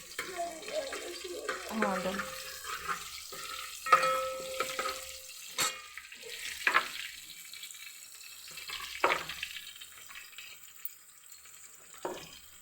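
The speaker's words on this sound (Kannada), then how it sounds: "ಇವಾಗ ನೀರು ಚಾಲುವಾಗಿ ನೀರೆಲ್ಲ ತುಂಬ್ಕೊಂಡಿನಿ" Water runs from a tap with clattering and splashing in a sink, broken by intermittent knocks and brief scrapes.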